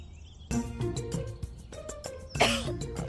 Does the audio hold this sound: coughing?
yes